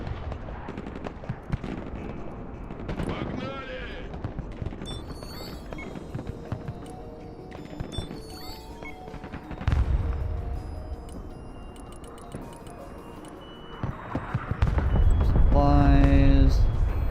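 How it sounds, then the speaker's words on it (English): Grenade launchers fire in the video game Broken Arrow as repeated bursts of explosive shots and gunfire, with heavier booms near the end, over a continuous battle din and bits of radio chatter. "Whole bunch of freaking grenade launchers, apparently."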